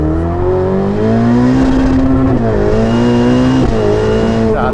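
A Novitec-tuned Ferrari 488 Pista's turbocharged engine revs loudly and close, its pitch climbing and dipping through several throttle surges with a rough, harmonic-rich tone.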